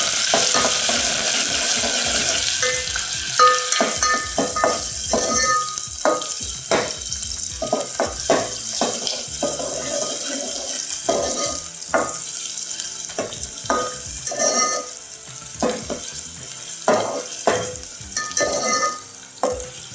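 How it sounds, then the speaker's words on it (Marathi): Onion frying in hot oil for a home-style black-eyed pea curry, a steady loud sizzle broken by frequent clinks and scrapes of stirring, close and continuous with no talk. "तेल गरम झालं का आपलं याच्यामध्ये कांदा टाकायचा."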